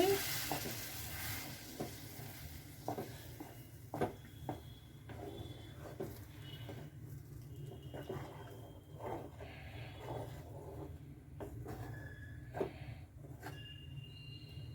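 Brinjal curry paste thinned with a glass of water is stirred in a frying pan, giving a soft, wet sizzle with repeated scraping and clicking strokes of the spoon close by, fairly quiet, with no talk.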